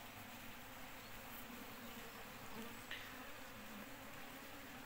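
Honeybees hum inside a hive in summer as young bees hatch. A faint, even drone holds steady throughout, close and unbroken, with no voices.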